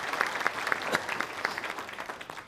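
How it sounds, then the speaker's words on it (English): An audience at a discussion meet gives the judges a round of applause, a scattered, fairly sparse clapping with distinct individual claps, heard faint and at a distance, thinning out toward the end. "Let's give them a round of applause"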